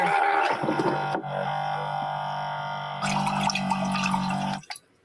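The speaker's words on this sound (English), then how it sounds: "I'm going to fill it with some water." Tap water running into a cooking pot in a camper van, a loud continuous rushing fill with a brief break partway through, stopping abruptly at the end.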